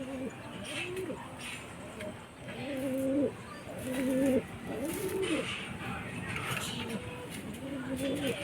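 Pigeons, including a blue bar, cooing on a rooftop in repeated throaty, rolling phrases, close and clear over faint outdoor background noise.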